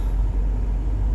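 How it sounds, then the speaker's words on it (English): Steady low road rumble heard from inside a moving car in heavy traffic, a constant engine and tire drone with no talking. "Good golly, traffic is terrible, and I'm not even there yet."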